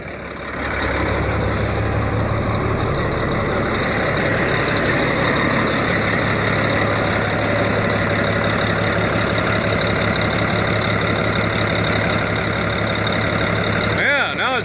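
Caterpillar 3176 diesel engine, repaired after a misfire, idles steadily with an even, close rumble throughout, ending with a brief sharp noise.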